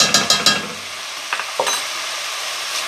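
Veggie spaghetti sauce with smoked paprika in a pan, three quick stirring scrapes at the start, then a fainter couple of clinks and a low simmering hiss that carries on alone.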